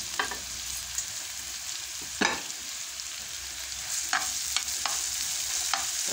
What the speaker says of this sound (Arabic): وكنشحروا فيها داك البورو اللي قطعناه، نخليوه حتى يتشحر مزيان